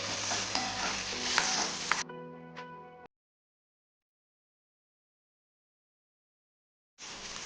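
Tindora and green chillies cooking in a pan over medium gas, a close steady sizzle with stirring for about two seconds, then a faint ringing tail, silence, and sizzling returning at the end.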